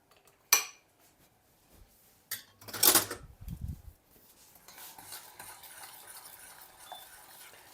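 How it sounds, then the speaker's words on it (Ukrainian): A spoon clinks and scrapes against a pot a few times, followed by a soft, steady bubbling hiss of syrup simmering over moderate heat. "вже ось він закипає, я його буду помішувати"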